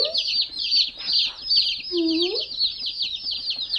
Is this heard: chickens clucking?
yes